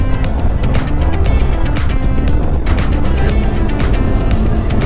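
A Yamaha TMAX scooter's motor buzzes loudly and climbs in pitch as it accelerates, with rapid sputtering pulses throughout and no voices.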